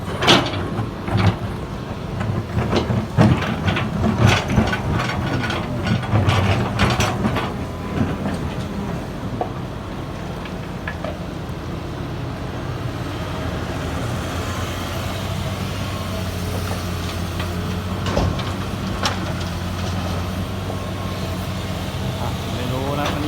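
A Hitachi EX200 excavator digs and prises up laterite soil. Its engine rumbles steadily, with clanks and metallic knocks from the bucket over the first half before settling into a low, continuous drone.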